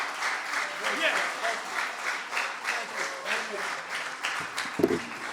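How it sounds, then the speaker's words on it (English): A church congregation claps hands in a steady rhythmic beat, loud and continuous, with a voice calling out over the clapping. "Come on, let's clap our hands into the Lord."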